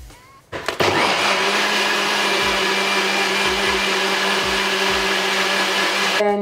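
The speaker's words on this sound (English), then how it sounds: "So I like to put all the ingredients in a NutriBullet." A NutriBullet blender whirs steadily after a short start-up, mixing eggs, almond milk and baking powder into pancake batter, a loud continuous motor drone for several seconds that cuts off sharply at the end.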